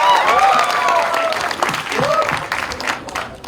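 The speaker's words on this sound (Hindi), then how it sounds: "जोरदार ताली होनी चाहिए" Audience applause at a promotional event for the film Border 2, steady clapping and cheering that continues under a presenter's voice.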